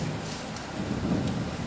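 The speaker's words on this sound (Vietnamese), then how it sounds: "Ngoài trời nó đang mưa rất to các bạn ạ" Heavy rain pours steadily outside a rural countryside kitchen in the evening, a dense continuous wash of drops with a low rumble that may be distant thunder, no voices.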